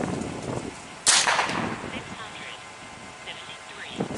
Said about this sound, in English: I'll shoot a tree.